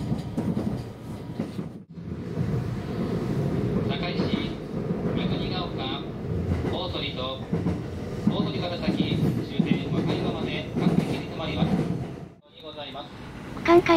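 A JR 225 series 5100 six-car train runs on the Hanwa Line as a rapid service, giving a steady rolling rumble with repeated rail clicks and brief dips, heard from inside the car.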